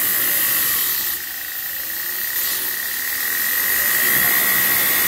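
An OBM surface grinder cutting a workpiece gives a continuous high, hissing grind with a steady whine, fairly loud and close, swelling slightly toward the end.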